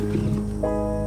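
A distressed male lion lets out a deep, throaty roar, a single loud close growl that fills the whole moment while it charges off.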